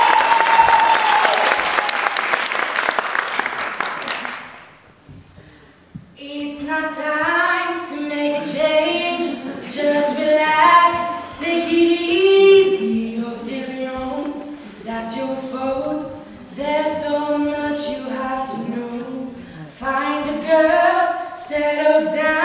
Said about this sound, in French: Alors on l'applaudit s'il vous plaît.